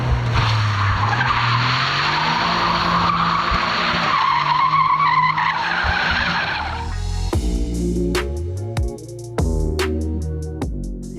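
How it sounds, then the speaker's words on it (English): A 2024 Toyota GR Corolla spins four-wheel-drive donuts, its engine roaring steadily as tires skid and scrub loudly and continuously, then the revs drop to a choppier idle with a few sharp bursts near the end. "will it do rally style celebration four-wheel drive donuts?"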